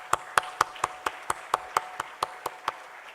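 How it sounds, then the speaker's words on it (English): Steady, evenly spaced claps, about four per second, sharp and fairly close, from an audience at a legal seminar and panel discussion, with no talking over them. "Let's give everyone a huge round of applause, please."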